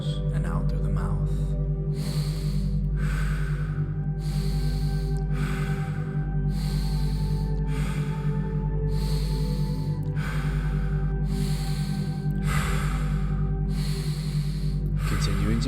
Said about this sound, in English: we're going to begin breathing in through the nose and out through the mouth.